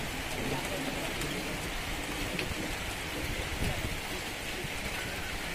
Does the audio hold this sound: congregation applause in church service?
no